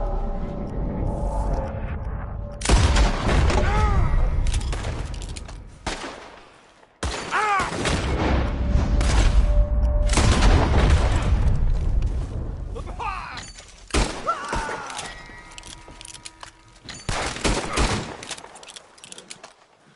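Gunfire erupts in Red Dead Online: loud bursts of rapid shots with shattering impacts in several clusters separated by brief lulls, close and heavy, with voices in places.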